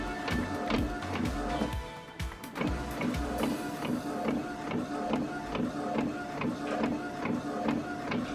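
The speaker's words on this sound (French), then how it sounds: "J'ai pas une imprimante très rapide." A slow home printer prints images, its mechanism ticking and whirring in quick repeated strokes with regular thumps as the head travels back and forth, loud and close throughout.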